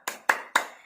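Three sharp claps in steady rhythm, close and fairly loud, each followed by a short ringing decay, from a second-grade classroom clapping chant led by a teacher.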